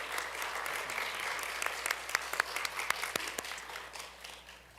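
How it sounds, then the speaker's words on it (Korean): Congregation at a Korean church service applauding in celebration of a training-course completion, a steady wash of many hands clapping with a few sharper claps standing out, fading slightly toward the end. "축하의 박수 보내주시기 바랍니다."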